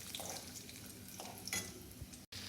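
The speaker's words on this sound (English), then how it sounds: "So I'll just saute this and put the sugar." Almonds sauteing in a pan with sugar added, giving a steady soft sizzle and occasional stirring scrapes, fairly close and alone with no talk.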